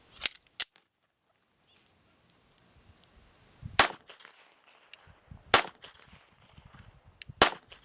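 A Glock 19 pistol with an extended threaded barrel fires 158 grain subsonic handloads: a handful of sharp, isolated reports spaced a second or two apart, with faint handling noises between.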